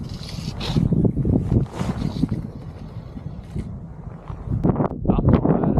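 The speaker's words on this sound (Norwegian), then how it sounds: "Og nå blåser det ganske kraftig bakfra." Strong gusty wind buffeting the microphone on the Rogaland coast during autumn sea trout fishing, rumbling in uneven surges that dip midway and rise again near the end.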